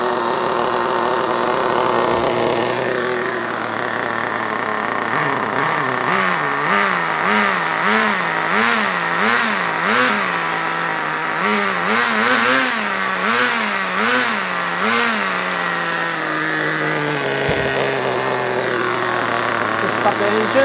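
A small high-pitched .18 (2.95cc) Vertex nitro model engine buzzes loudly and steadily, with repeated quick revs rising and falling in a wavering rhythm before settling back.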